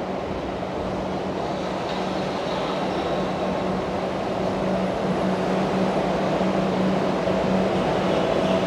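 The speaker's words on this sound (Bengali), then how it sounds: "তো মেট্রো স্টেশনে ঢুকে গেছে," A Kolkata Metro Orange Line train rolls into a station with a loud, steady rumble and a low hum that builds gently over several seconds, with no voices.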